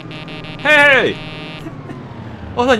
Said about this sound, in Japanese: B でブザーを。ブザーだ、ブザー。